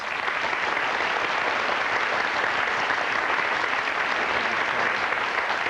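A television talk show studio audience gives steady, dense applause, loud and sustained for several seconds with no break and no talking over it.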